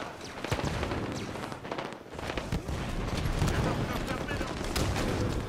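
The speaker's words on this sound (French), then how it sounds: "Je lance une grenade." Halo 5: Guardians multiplayer, with dense bursts of gunfire and explosive blasts over a continuous battle din, loud and close throughout.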